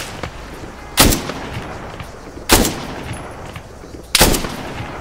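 Three sharp, loud gunshots ring out at even intervals during a survival shooter match with an airdrop, each a sudden broadband crack that trails off against steady game background noise.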